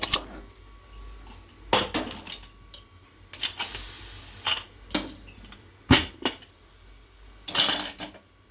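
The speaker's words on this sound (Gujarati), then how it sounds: "કુકર નીચે ઉતારીશું" Sharp metallic clanks and knocks as a pressure cooker of boiled sweet potatoes is lifted off the stove, scattered bursts against a quiet background.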